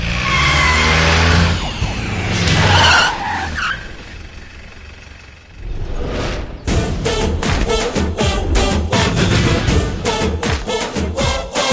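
Tyres skid and screech on a car in a Malayalam film scene after a gear change, loud and continuous with a roaring engine, a pause, then a dense burst of sharp repeated impacts.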